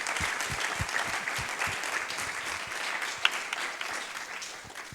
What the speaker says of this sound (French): Je pense qu'on peut d'ailleurs l'applaudir.